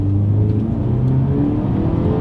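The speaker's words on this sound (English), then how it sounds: "Let's do a quick little acceleration here in the X2" A 2020 BMW X2 accelerates hard, its engine and road noise droning loud and continuous from inside the cabin, with the pitch climbing gradually as speed builds.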